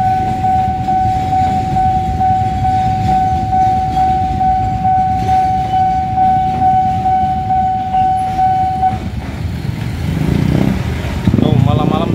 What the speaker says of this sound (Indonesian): malam-malam tengah malam begini ada kereta barang